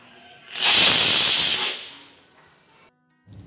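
A pressure cooker of dal vents steam after its whistle with a loud, close hiss that bursts out, holds for over a second, then tapers away into quiet.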